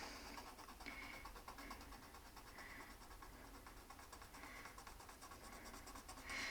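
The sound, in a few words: pencil drawing a line on a license plate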